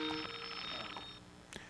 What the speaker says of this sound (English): All right, we have a phone call.